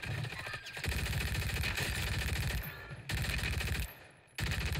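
Rapid automatic gunfire in the Warzone video game, sustained bursts from a nearby weapon broken by short pauses, with dense, loud crackling fire filling almost the whole stretch.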